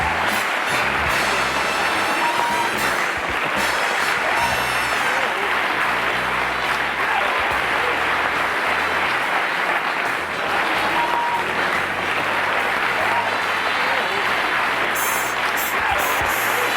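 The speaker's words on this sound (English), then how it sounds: "I'm humbled by that applause." Long, loud applause from a television studio audience on a 1984 talk show, continuous and full, with faint voices and a few whistles mixed in.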